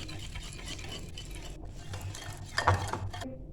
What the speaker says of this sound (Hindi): इसको भी अच्छे से मिक्स कर लेंगे